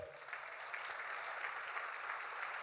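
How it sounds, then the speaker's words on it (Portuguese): A church congregation claps for the Lord during a Portuguese-language sermon on praying with the Holy Spirit; the applause is soft and distant but continuous throughout. "Será que você pode aplaudir o Senhor?"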